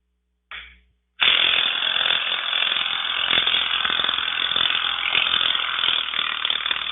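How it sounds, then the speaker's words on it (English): Metal vice grips clamp and twist on the steering gear of an Allis Chalmers B tractor, giving a brief scrape followed by a sustained loud grinding, ratcheting mechanical noise close up, with no talking. "Break out the old trusty vice grips."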